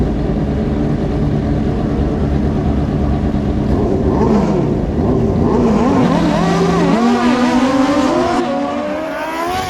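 Drag racing motorcycles at Maui Raceway Park scream down the strip in a loud, continuous engine roar with rising and shifting pitch as the bikes accelerate through the gears.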